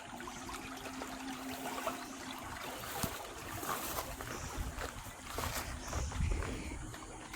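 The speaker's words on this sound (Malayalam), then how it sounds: "മഴ പെയ്ത് വെള്ളമായതിൻ്റെയാണ് ഇത്രയ്ക്ക് ഒഴുക്കിൻ്റെ ശബ്ദമൊക്കെ" Rainwater runs through a small roadside drain after a downpour, making a steady, close rushing gurgle that continues without pause, with faint low rumbling and a few soft knocks underneath.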